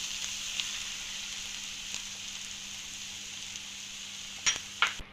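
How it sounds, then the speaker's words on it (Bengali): Eggs with spice masala fry in a pan with a steady, even sizzle, joined near the end by a couple of sharp utensil knocks as they are stirred in. "তো এবার আমি ডিমটাকে খুব সুন্দরভাবে সমস্ত কিছুর সঙ্গে মিশিয়ে নেব।"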